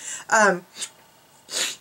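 A short allergy sneeze bursts out near the mic, with a quick sharp inhale before it and softer breathy sounds after.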